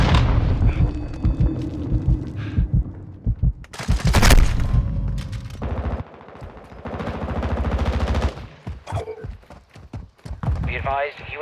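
Rapid bursts of automatic gunfire and heavy explosions in a Call of Duty firefight, loud and close, broken by short pauses, with talk in between.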